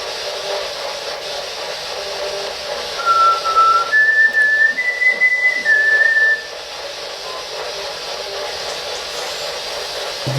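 Slowed spirit box sweep giving off a thin whistling tone: a few rising and gliding pitched notes over roughly three seconds, laid over a steady hiss and static.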